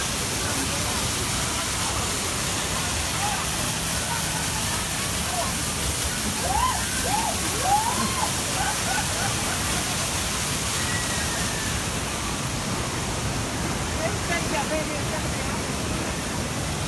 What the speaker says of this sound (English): Let's watch these poor people get hit with this waterfall here.